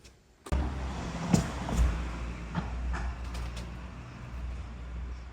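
A motorbike engine that has sat unused for weeks starts up outdoors in rural Spain, catching abruptly with a loud onset and then settling into a steady, fairly close idle rumble with a few brief revving bumps.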